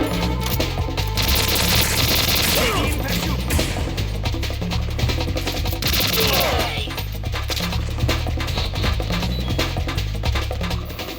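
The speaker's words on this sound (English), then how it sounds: "Ow, that's a shotgun" Shotgun blasts and gunfire in the Metal Gear Solid 2 video game, a dense run of loud impacts and crashes over steady game music and ambience throughout.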